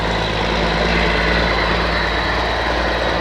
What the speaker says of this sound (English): I got a dump truck going by.